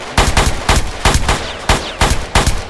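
Video game gunfire rings out as a close, loud series of about seven sharp shots at a fairly even, rapid pace, with no talking over it.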